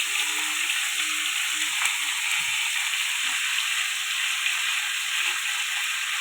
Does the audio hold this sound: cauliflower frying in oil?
yes